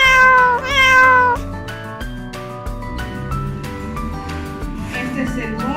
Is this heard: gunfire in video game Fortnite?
no